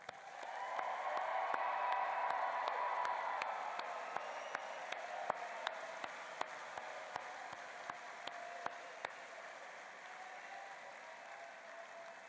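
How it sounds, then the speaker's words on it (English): An audience claps for graduates at a spring university graduation ceremony, with sustained, dense applause filling a large hall and a few sharper individual claps cutting through as it gradually thins out. "I think they merit one more large round of applause from everybody."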